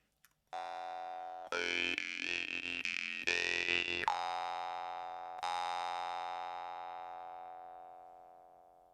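A Temir Komuz steel jaw harp with a large spiral trigger is plucked, giving a bright, twangy ringing tone with a few rapid pulses before it settles into a long, clean, slowly decaying ring, alone and clear.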